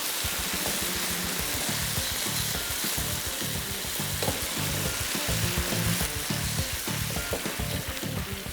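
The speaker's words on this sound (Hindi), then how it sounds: "अंडा पका रहे हैं हमारे, लाइक दिस।" An egg fries in a wok, giving a loud, steady sizzle with crackling spatter throughout and no voices.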